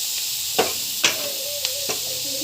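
Cauliflower sautéing in a hot pan, a steady sizzle under a few distinct scraping stirs of the spoon at irregular intervals, close and clear with no talking.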